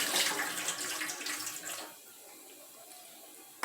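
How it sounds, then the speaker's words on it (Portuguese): Water poured off soaking salted meat for feijoada splashes loudly into a sink for about two seconds, then stops abruptly, leaving quiet room tone. "Vou jogar essa água fora."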